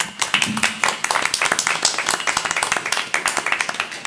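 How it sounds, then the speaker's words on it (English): A smaller audience at a board meeting claps in distinct, separate strokes. The hand claps are close and slightly uneven, and brief bits of voice come through under the patter. "Let's give them a round of applause."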